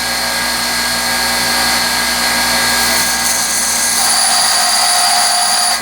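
A hardened steel drill rod is held against a grinder, giving a loud, continuous high-pitched grinding whine that stays steady for several seconds, shifting slightly partway through, with no talking.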